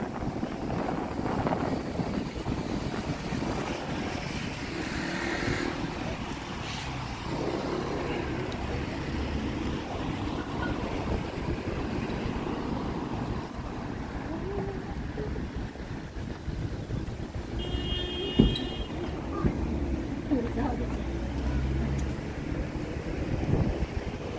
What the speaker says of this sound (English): it's windy here today. You guys can hear the wind, eh?